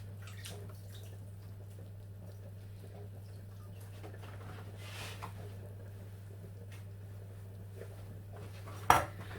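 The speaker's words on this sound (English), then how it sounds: "I'll just give my knife a clean." A kitchen knife is rinsed under faintly running water while making a homemade chicken pie, a low steady wash over a hum, ending with a single sharp clink.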